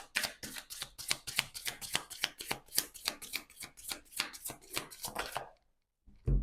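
Energy healing oracle cards being shuffled by hand in a quick, steady run of crisp riffling slaps, close and clear, stopping abruptly near the end after a brief silence.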